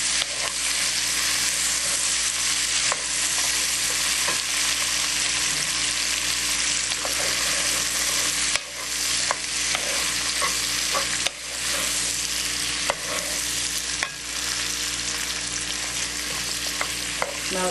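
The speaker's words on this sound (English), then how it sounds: "we're going to cook and stir these till the onions caramelize, about 4 minutes." Onions and peppers sizzle steadily in a hot pan, broken by occasional scraping stirs and clinks from a utensil, close and continuous with no voices.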